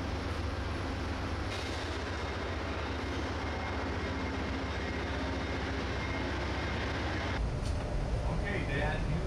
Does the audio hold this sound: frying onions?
no